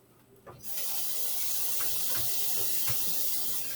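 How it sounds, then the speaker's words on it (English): A kitchen tap opens after a brief quiet moment and runs in a steady close hiss of water while hands are washed, with a few faint knocks in the sink. "Wash my hands again, because salmonella is not a good thing."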